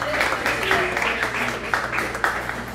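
Applause and cheering from a crowd at a tribute concert, clapping mixed with hum and voices, some shouts rising above it, moderately loud and continuous throughout.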